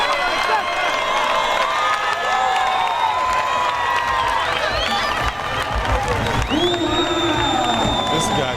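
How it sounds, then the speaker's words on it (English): A crowd cheers and roars at a Rock'em Sock'em Robots game ahead of the final bell, a dense, sustained wall of shouts and whoops with voices rising over it throughout. "we're just going to let the crowd take you into the final bell"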